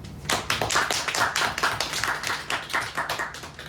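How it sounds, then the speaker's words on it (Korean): A church congregation claps hands together during a worship sermon, with steady, closely spaced claps forming an even, lively round of applause for a few seconds. "박수 한번 칠까요?"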